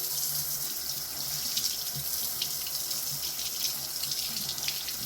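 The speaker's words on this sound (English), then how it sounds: "this is just under normal water from the tap, which you also just give this a rinse as well." Tap water running steadily under a faucet as a part of a Ninja Luxe Café Premier espresso machine is rinsed, a close, loud, continuous hissing stream with slight splashing variations and no talk.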